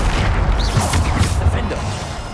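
A Bombarda spell explosion in the Hogwarts Legacy video game: a heavy, rumbling boom that rolls on for a couple of seconds, loud and close, with game effects layered over it.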